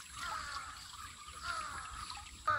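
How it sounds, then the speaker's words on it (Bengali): Water trickles faintly and steadily as small fish are rinsed with salt water in a strainer during home cooking, with no voices over it. "তো এখন আমি ফিল্টারে পরিষ্কার করে লবণ দিয়ে ধুয়ে নিব পাঁচ ছয়বার।"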